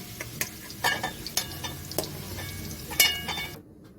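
Cabbage fries in a pan under a soft, steady sizzle, broken by sharp utensil clicks and taps every half second or so, ending in near silence.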